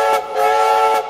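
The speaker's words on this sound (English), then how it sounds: "What sound does a train make?" Train sound in a children's train quiz show: a loud, steady whistle-like horn tone held for about a second, close and alone, with brief puffs at the start and end.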